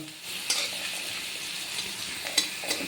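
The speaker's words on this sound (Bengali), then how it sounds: "ওই খয়রা মাছের তেলগুলো যে বেরিয়েছিল সেগুলো একটু ভেজে নিচ্ছি পেঁয়াজ দিয়ে" Oil rendered from khoira fish frying with onion in a pan, a steady close sizzle with a few sharp stirring scrapes of a utensil against the pan.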